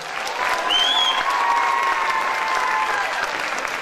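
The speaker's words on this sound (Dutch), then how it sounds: "Applaus." An audience at a grand-finale dance and music show applauds steadily throughout, a dense, loud wash of clapping from a large crowd.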